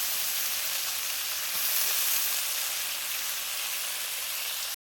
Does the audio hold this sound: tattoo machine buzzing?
no